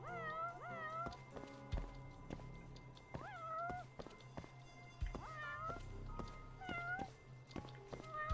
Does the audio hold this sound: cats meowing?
yes